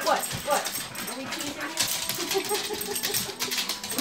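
Dogs whimpering and whining in high, wavering tones, with a person talking over them close by.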